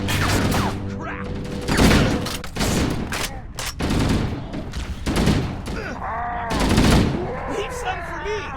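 Bursts of gunfire in Halo: Combat Evolved Anniversary, with rapid volleys and single heavy shots and thuds in an ongoing firefight, loud and close, while soldiers' voices shout over the shooting.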